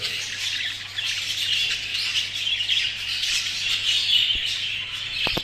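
A breeding pair of birds squawks and chirps continuously and fairly close by, with a steady low hum underneath and a couple of sharp knocks near the end.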